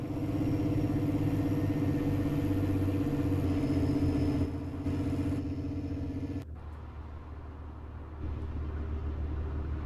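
A truck engine in Farming Simulator runs at a steady, droning idle, a continuous mid-pitched rumble that changes tone slightly partway through, with no talk over it.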